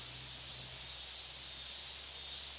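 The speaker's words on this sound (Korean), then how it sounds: "매미 소리도 들리고" Steady high-pitched buzzing of cicadas in the early morning on Seoraksan mountain, a continuous dense drone with a faint low hum beneath and no talk.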